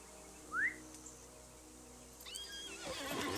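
In the video game Lord of the Rings Online, a single short, high horse whinny rises briefly, followed a couple of seconds later by fainter tonal calls and rustling noise that builds toward the end.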